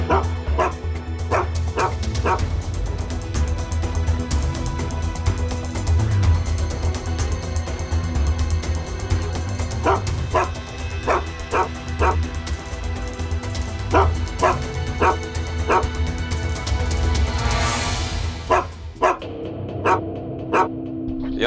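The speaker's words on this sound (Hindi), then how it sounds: "फिर ये कुत्ता क्यों भौंक रहा है?" A single dog barks repeatedly near a construction site, loud sharp barks coming in clusters with short pauses across the whole stretch, set against a steady low background rumble.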